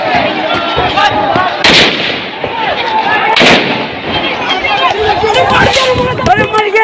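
Gunshots during a riot with stone throwing, two sharp loud cracks a couple of seconds apart amid shouting crowd noise and agitated voices.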